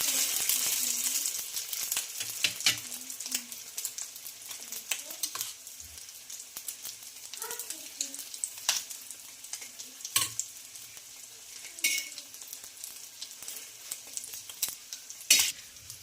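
Egg-coated bread frying in a pan, a steady close sizzle with occasional clinks and scraping of a utensil against the pan throughout.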